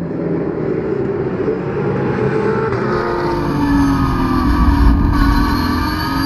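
A steady roar of Porsche 991 Cup race cars with 4-litre engines blares continuously, with a rising drone as cars pass by on the Lédenon track.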